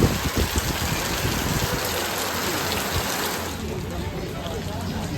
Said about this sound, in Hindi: देखिए कितनी तेज़ बारिश हो रही है।